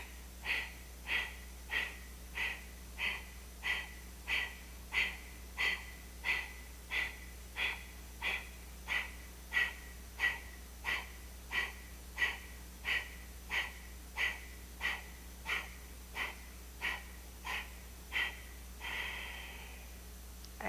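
Rapid rhythmic yoga breathing, about thirty quick forceful nasal breaths in a steady even pulse, close and clear, ending with a longer full inhale and release.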